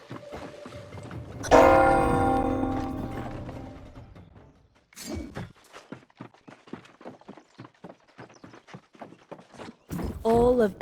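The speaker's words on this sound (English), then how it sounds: "All of Ebonscale now hears the ringing of the celestial bell." A celestial bell in the New World: Aeternum fantasy game rings out with a strong harmonic strike that decays over a couple of seconds, followed by a voice speaking at length with a brief swell of sound near the end.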